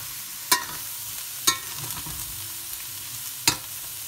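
Egg cooking in a hot pan for Chinese fried rice, a soft continuous sizzle broken by three sharp clacks of a utensil against the pan.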